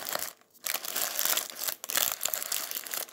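Plastic breakfast bags crinkled and folded by hand up close, bursts of loud rustling and crackling plastic broken by brief pauses, with no voices.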